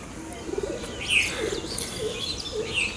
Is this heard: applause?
no